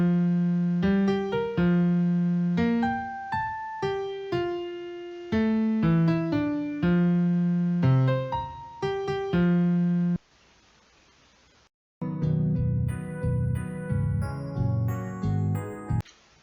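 Synthesized computer-generated notes from a JFugue music string step through scales in steady, evenly timed tones, a brief silent gap, then a denser run of higher notes; clean and alone with no voices.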